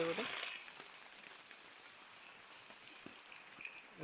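Rain falls steadily as a soft crackling patter of drops on surfaces, faint and continuous, with a brief brighter burst of noise at the start.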